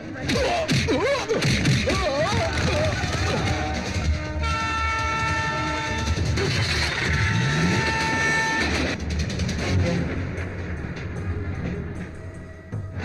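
A train rumbles past loudly and close with continuous rolling clatter of wagons, a sustained horn blast sounding through the middle, and the roar fading slightly toward the end.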